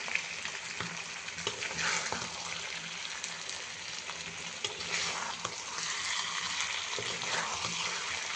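Chicken bhuna is cooked dry with freshly ground spices, frying in a pan with a continuous close sizzle and intermittent scraping and stirring clatter.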